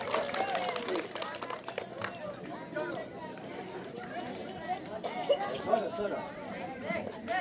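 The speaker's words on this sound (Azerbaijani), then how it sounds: "Sizdən də bir rica edəcəm, bir gözəl alqışlar gəlsin." A crowd applauds at a village last-bell school ceremony in Aşağı Çardaxlar, scattered clapping and chatter filling the space, with a voice talking over it throughout.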